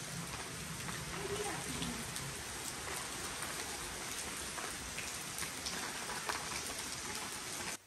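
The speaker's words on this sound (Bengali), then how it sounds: "আর এদিকে এমন জোরে বৃষ্টি আরম্ভ হয়েছে" Heavy rain pours down steadily during a power cut at home, a dense continuous hiss of drops beating on surfaces from start to finish with no pauses.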